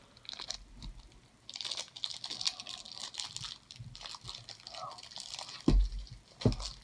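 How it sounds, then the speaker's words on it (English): Intermittent crinkling and rustling of plastic packaging on Star Realms Frontiers card game promo cards, close by, with scattered handling noises and a couple of sharp knocks near the end. "So I was saying about that crinkling sound."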